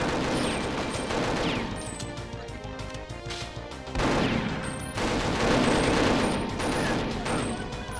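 Several Avenger guns fire in rapid, overlapping bursts in the shooter video game Perfect Dark, loud and near, with crashing impacts mixed in and only a short lull midway.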